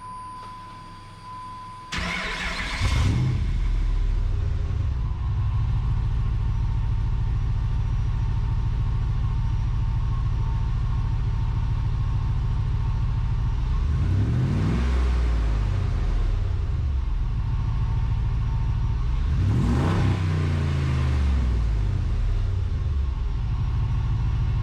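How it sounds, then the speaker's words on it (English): Dodge Hemi truck with a Borla Pro XS muffler cranks and fires after a brief pause, settles into a deep, rumbling idle, then revs loudly twice, each rev swelling and falling back to idle. "So let's go start this thing up and see how it sounds."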